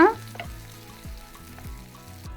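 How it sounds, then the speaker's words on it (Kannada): Onions and green chillies fry in a pan, a soft, low sizzle beneath regular scraping strokes of a spatula repeating about every half second, close by and without speech. "ಈಗ ಇದನ್ನ ಫ್ರೈ ಮಾಡ್ಕೋಬೇಕು ನೋಡ್ರಿ ಗುಲಾಬಿ ಬಣ್ಣ ಬರೋ ತಕ್ಕ ಫ್ರೈ ಮಾಡಬೇಕು"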